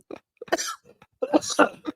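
A person nearby coughs and clears their throat in a few short, rough bursts separated by brief pauses, close and fairly loud in a quiet room.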